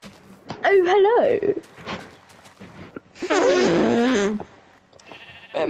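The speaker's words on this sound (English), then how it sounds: "Just bring the sheep over here, Jaden." Sheep bleat in a video game, two long wavering calls close by, with player voices talking around them.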